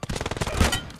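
Rapid automatic gunfire from a battle royale video game, a dense burst of about a dozen quick shots over roughly one second, fairly close and heard alone.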